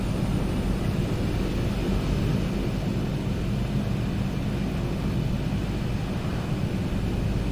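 Aerosoft Twin Otter twin-turboprop taxiing in Microsoft Flight Simulator 2020 gives a steady, loud, broadband engine roar with a low rumble, unchanging throughout and without talking.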